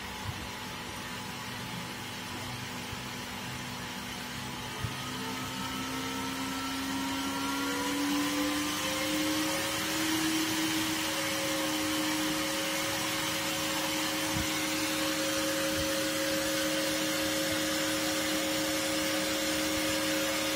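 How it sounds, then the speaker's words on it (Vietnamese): A small 12V cooling fan, powered from a phone charger alongside a 12V COB LED, whirs steadily with a rising tone as its speed is turned up, a continuous airy hum with no talk. "các bạn chú ý nghe tiếng quạt kêu"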